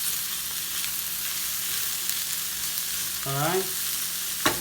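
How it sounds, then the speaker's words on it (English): Vegetables for Sicilian caponata sautéing in a pan with kosher salt, a steady close sizzle and frying hiss running throughout, a brief stir scrape near the end and a short spoken phrase over it. "Kind of saute these together."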